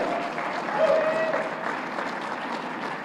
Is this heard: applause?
yes